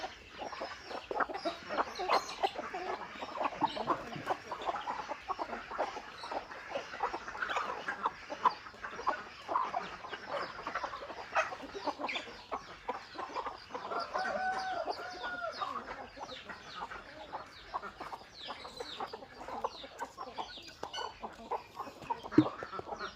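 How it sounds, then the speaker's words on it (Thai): Fighting cocks and Muscovy ducks feeding and drinking together on a Thai farm, giving a dense, continuous mix of clucks, squawks and occasional crowing at close range without pause. "เป็ดเทศกับไก่ชนกินน้ำกันเลยพี่น้อง"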